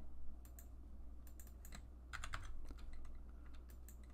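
Computer keyboard and spacebar clicks while working in the Figuro 3D modeling program, a scattered run of light, quiet clicks and taps, close but faint over a low steady hum.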